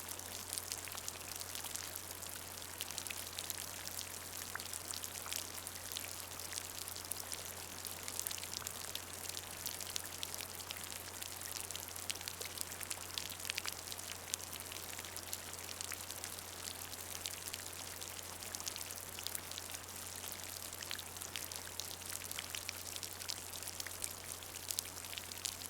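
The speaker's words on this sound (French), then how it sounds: "Et doucement, la pluie ralentit, s'arrête," Light rain patters steadily and softly, a continuous fine crackle of drops falling on a surface, with an even hiss and a low steady hum beneath, no voices present.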